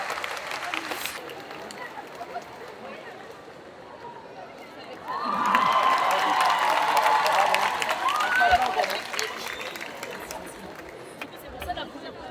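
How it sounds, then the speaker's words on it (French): Cosplay contest audience at a French convention applauding a new host as she takes over, a broad swell of clapping and cheering rising out of crowd murmur midway, then fading back to chatter. "On l'applaudit très très fort"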